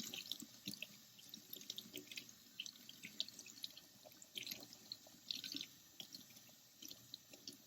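Tap water runs steadily over a thrifted Barbie-type doll's hair to rinse out conditioner, a soft, low-level splash and trickle with small spattering bursts throughout and no talking.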